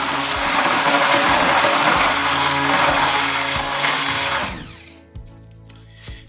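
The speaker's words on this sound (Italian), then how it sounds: "la andiamo a emulsionare piano piano con un mini primer" Immersion mini blender whirring steadily in cold cream for a chocolate Christmas log, a loud continuous motor drone that cuts off near the end, followed by a few soft knocks.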